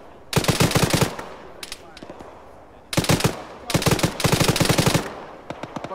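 Machine-gun fire in a military video game, loud close bursts of rapid shots broken by brief gaps, with some talk in the background.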